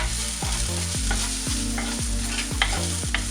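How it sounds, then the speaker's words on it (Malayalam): Shallots sautéing in a pan with salt for a fish molee, a soft continuous sizzle broken by regular scraping stirs about twice a second, close and without talk. "ഒരു ചെറിയ ബ്രൗൺ കളർ ആകുന്നത് വരെ ഒന്ന് വഴറ്റി കൊടുക്കണം."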